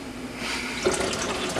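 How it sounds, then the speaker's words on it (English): Tap water runs into a jug of sweet tea, a close, steady hiss and splash that grows slightly fuller as the level rises. "fill this up with some water here"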